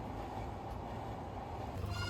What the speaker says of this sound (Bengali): এটা হচ্ছে পদ্মা সেতুর উপরে ট্রেনের যে লাইনটা, সেই লাইন দিয়ে আমরা যাইতেছি।